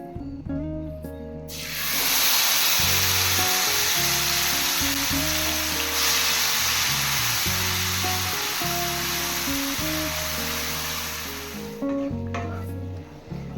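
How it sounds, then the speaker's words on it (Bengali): Masala spice paste fries loudly in a pan for jackfruit kofta curry, a bright continuous sizzle that starts abruptly and holds for about ten seconds. Rhythmic background music plays underneath. "মশলা 5-6 মিনিট কষিয়ে নেব"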